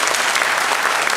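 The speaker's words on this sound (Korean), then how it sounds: "박수를 한번 환영하도록 하겠습니다." A church congregation applauds to welcome a newcomer during a Sunday morning service, a brief, loud burst of many hands clapping together, close and steady.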